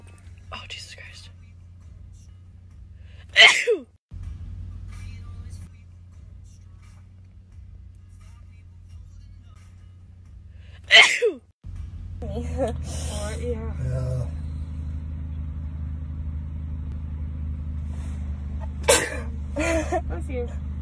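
During a Covid-19 nasal swab test, two sharp sneezes burst out several seconds apart over a quiet background, followed by whispering and talking with a steady low hum underneath.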